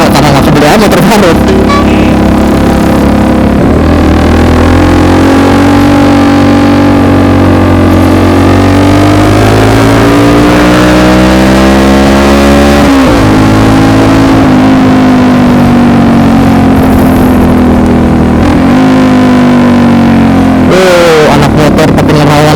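Modified Yamaha Jupiter MX motorcycle engine revving in traffic, loud and close, its pitch rising and falling in long sweeps with sharper bursts near the start and end.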